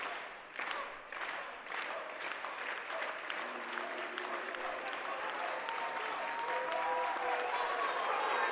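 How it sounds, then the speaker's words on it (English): A crowd at a weightlifting meet cheers and claps steadily, the applause building and holding strong with shouts and whistles mixed in. "Crowd getting excited for Crisanto."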